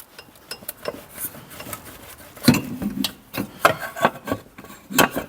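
Tools clank and scrape against metal while the air filter housing is worked off a Zastava 850 engine, with irregular close knocks, rattles and rubbing.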